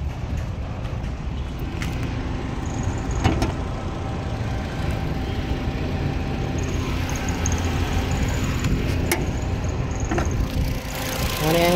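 A 2017 Ford EcoSport Trend's engine runs at a steady idle, a loud, continuous low rumble with a faint whine above it and a few light clicks and knocks.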